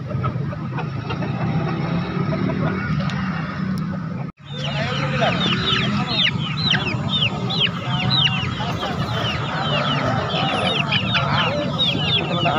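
Chickens and roosters at a poultry market in Makassar cluck and crow busily over a dense background of market bustle and voices, with a brief drop-out partway through before the birds resume.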